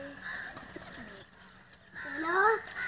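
Pigeons in a loft in Kot Ishaq, Hafizabad district, coo softly, with a clearer burst of cooing near the end amid low background murmur.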